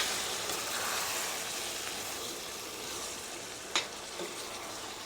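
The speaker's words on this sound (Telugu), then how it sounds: "చికెన్ కూడా ఇందులో వేసుకోవాలి. వీటన్నిటిని ఇలా బాగా కలుపుకోవాలి." Chicken pieces frying in a hot pan for a green chicken curry, with a steady close sizzle and a couple of brief scraping stirs near the end.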